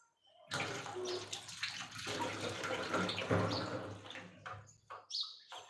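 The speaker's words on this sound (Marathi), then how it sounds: "टोमॅटो धुवून घेते" Tomatoes being rinsed under running water, a steady broadband splashing stream that runs nearly continuously at close range, broken by brief pauses and clattering handling near the end.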